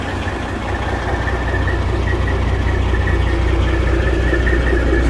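A Detroit 60 Series 12.7 diesel in a 2000 International Eagle 9200 truck idles with its exhaust removed, a loud, steady, close rumble that holds constant for the whole stretch with no talking.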